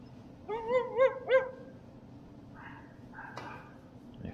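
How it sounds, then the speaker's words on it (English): A dog barks three times in quick succession, fairly close and clear, followed by a few softer whimpering yips indoors during a home snooker league match. "If you heard that, that's my dog barking at me."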